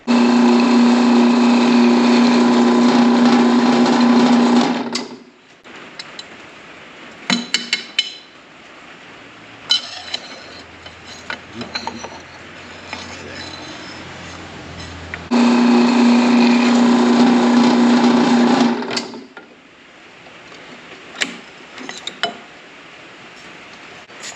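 A power drill fitted with a 3/8 bit bores into wooden posts, giving two loud sustained whines of about five and four seconds separated by quieter handling knocks and taps.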